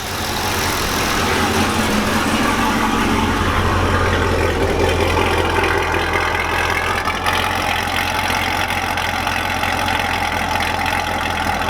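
A Chevrolet Corvette C6 engine with newly installed Speed Engineering longtube exhaust headers idles loudly and steadily with a deep exhaust rumble, continuous throughout with no talking.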